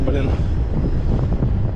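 Wind buffeting a microphone while cycling into a headwind on a Crimean road, a dense low rumble and roar that fills the whole short stretch, with a voice briefly speaking over it.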